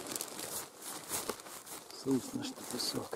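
A metal probe is pushed into wet sand after light rain while searching for stone, giving faint gritty crunching and scraping outdoors with soft rustles.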